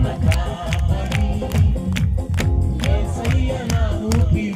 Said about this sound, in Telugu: అమ్మందరూ చప్పట్లు కొట్టండి